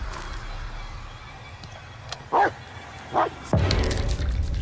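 A dog barks in the Blair Witch video game: two short, sharp barks sound mid-distance over a rumbling ambient background, followed by a louder sudden burst of noise.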